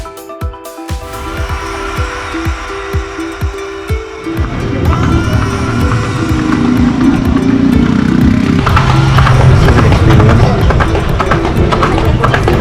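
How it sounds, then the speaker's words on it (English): A horse-drawn carriage carries tourists in Nicaragua. Hooves clop in a steady trotting rhythm for the first few seconds, then a louder, continuous rumble of rolling wheels and wind rises and largely buries them. "in a horse carriage on our way to a very touristic place"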